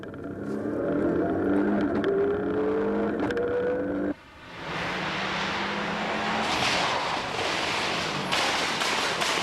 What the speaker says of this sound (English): Now we go on board Cullen's Subaru for the same stage.